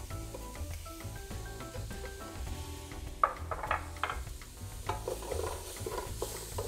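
Butter melts with onion and garlic in a pan, giving a soft, steady sizzle under background music, with a few louder stirring scrapes partway through.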